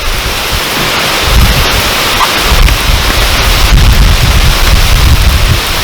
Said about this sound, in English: Storm's starting to blow in, it's getting really windy.